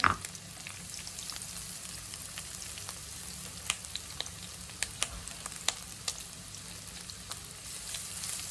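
Onion, ginger and coarsely chopped garlic fry in a pan over medium heat, giving a steady soft sizzle with occasional sharp crackles and pops, close and continuous with no talking.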